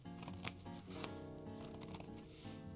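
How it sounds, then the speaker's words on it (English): Scissors snip through a felt piece for a homemade fabric party crown, giving a few short, crisp cuts spaced out over steady background music. "So now I'm going to cut out the felt piece."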